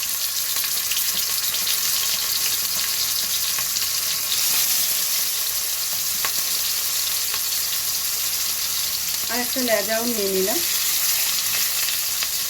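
Fish pieces, including a tail piece, frying in hot oil for a fish bharta, making a loud, steady, close sizzle throughout, with occasional faint clinks and a brief spoken remark near the end.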